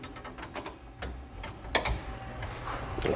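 A ratchet wrench tightens exhaust bolts on a Polaris Ranger 1000 XP in a cramped space, giving quick clicking bursts and short mechanical ticks close up, with brief pauses between strokes.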